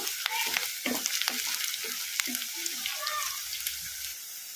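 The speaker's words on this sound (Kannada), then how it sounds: "ಈ ಥರ ಕಲಿಸ್ಕೊಂತ ಫ್ರೈ ಮಾಡ್ಕೋಬೇಕು." Onions frying over a medium flame while being stirred for palak sambar, a constant crackling sizzle with frequent spoon scrapes against the pan and someone speaking over it.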